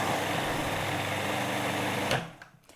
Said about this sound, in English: what I want to do is blend that down